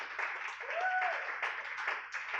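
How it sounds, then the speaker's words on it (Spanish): Church congregation clapping and applauding vigorously, a continuous crowd of hands with a brief whistle-like tone and a voice calling out over it. "Dele fuerte el aplauso al Rey"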